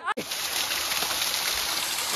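A waterfall on a mountain trek, roaring as a steady broadband rush of falling water heard up close, with a brief dropout near the start and voices mixed in.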